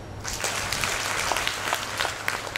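Listeners at a Hindi spiritual talk and camp session respond with strong applause, a dense, continuous clapping from a sizeable audience, with scattered sharper claps standing out throughout.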